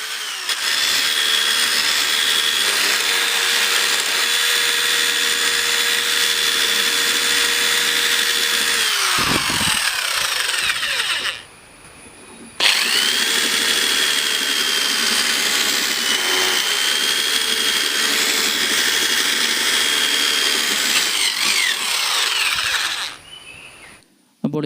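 Power drill fitted with a hole saw cutting a connector hole in a plastic water tank, a loud close whine held for about ten seconds, a brief pause, then another long run.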